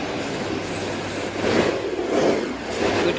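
A train rushing past in the railway video game Terminal Railways, a loud close rumble and rail hiss that swells in the middle and carries on steadily, heard alone without talk.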